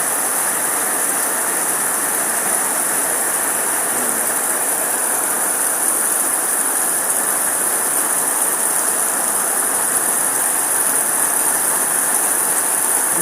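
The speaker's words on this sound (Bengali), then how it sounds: "মুষলধারে বৃষ্টি হচ্ছে" Torrential rain pours down in a dense, loud, unbroken hiss that stays steady throughout, with no voices or other sounds rising above it.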